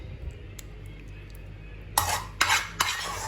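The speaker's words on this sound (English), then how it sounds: "So just add in all the sauce, all that juicy meat sauce. Make sure that it is thoroughly spread." A utensil spreads juicy meat sauce across a lasagna pan. After a quiet stretch it makes three quick, close scraping clinks.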